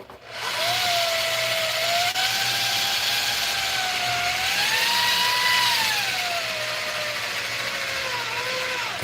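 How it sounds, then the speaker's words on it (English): A power drill runs continuously into a solar panel with no table underneath, its motor whine rising and falling in pitch as pressure changes, loud and steady for about nine seconds with no talking. "it's a terrible idea pushing down on a solar panel drilling"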